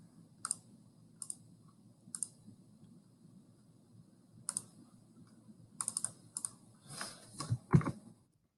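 Mouse clicks selecting a menu item on a course web page: a few sharp, isolated clicks spaced across the first seconds, then a quick cluster of clicks and handling noises, close and fairly quiet over a low room hum.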